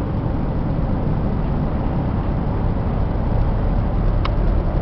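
A 2004 Chevy full-size AWD van cruises down the road, its engine and tire rumble forming a steady, loud, low drone heard from inside the cabin with no talking.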